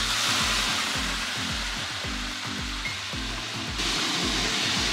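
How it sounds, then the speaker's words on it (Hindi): Fenugreek and cumin seeds sizzle in hot oil for a tempering while kadhi is being prepared, a loud steady hissing fry with rhythmic low scraping or stirring underneath, close and without talk. "मेथी डाली और जीरा डाला भैया ने, और यहाँ बघार रेडी हो रहा है।"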